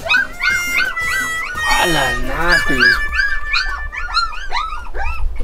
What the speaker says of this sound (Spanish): Pucha, esos perros pequeños. Ya están peleando.